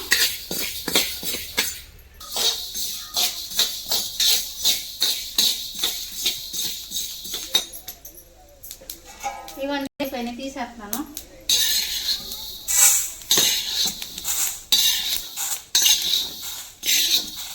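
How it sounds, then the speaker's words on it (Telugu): Fenugreek seeds, about 150 grams, being dry-roasted and stirred in a pan, with a dense run of rattling scrapes and metallic clinks from a spoon against the pan, loud and continuous, briefly easing midway before resuming. "నూట యాభై గ్రాములు మెంతులు పోసుకొని వేపుకుంటున్నాను"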